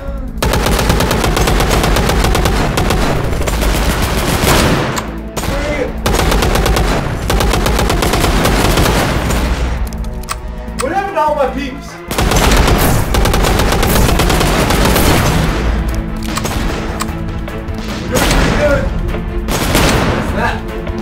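Constant rapid bursts of gunfire and machine-gun fire with explosions in the VR game Alone in the Chamber, loud and chaotic, with voices occasionally heard beneath.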